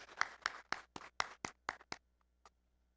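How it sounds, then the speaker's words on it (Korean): Church congregation at a Wednesday worship service at a Methodist church clapping in a steady rhythm, about eight sharp claps in even succession followed by a lone late clap, fairly near and clear with no talk. "다시 한번 박수해 주시기 바랍니다"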